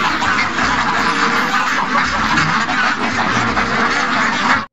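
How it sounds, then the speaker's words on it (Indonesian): A duck quacks in rapid, dense, loud bursts that fill the whole stretch without pause, harsh and close with no talk over it. "Ternyata ini bebek."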